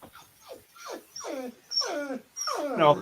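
A dog whines and whimpers in a rising series of drawn-out cries, each louder and longer than the last, close by with no talk over them.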